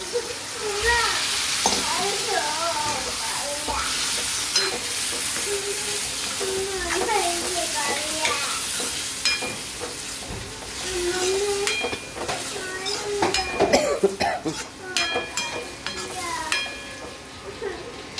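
Black-eyed peas being stirred in a pan of hot tempering, a steady scraping stir over soft sizzling frying, with a voice talking faintly in the background.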